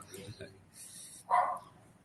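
A pet dog gives a single short bark that cuts in briefly after a man's speech during an online conference session, fairly close and louder than his voice.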